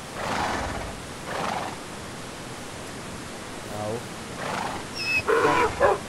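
Rough donkey braying calls in a video game come in a few separate bursts over a noisy background, growing louder and more strained near the end.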